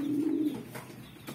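Pigeons coo softly at close range in a low, rounded burst, followed by a couple of fainter murmurs against a quiet background.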